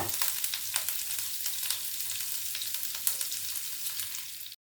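Chopped green chilli stir-fried lightly in hot oil for egg do pyaza, a steady close sizzle with faint stirring scrapes that runs unbroken before cutting off abruptly.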